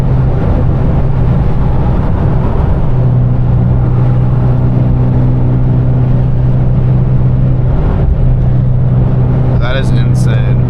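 Audi R8 V10 with 1,000 hp twin-turbo setup and F1 exhaust, engine droning steadily at high RPM, loud and close from inside the car, with a brief voice near the end.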